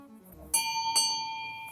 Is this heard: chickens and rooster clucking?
no